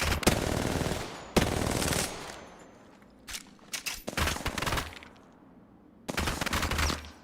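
Automatic weapon fire in the video game Apex Legends, loud and close: several short, sharp bursts of rapid shots separated by quieter gaps with faint footsteps and scattered single shots.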